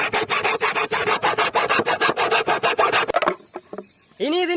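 A piece of bamboo is cut by hand with fast, steady rasping saw strokes, loud and close, before the sawing stops abruptly and a few faint knocks follow.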